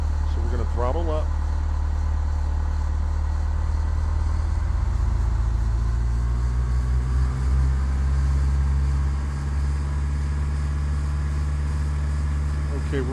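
A light aircraft engine throttles up to about 1,800 RPM, a loud, steady droning hum that holds its pitch for over ten seconds, with a voice talking over it.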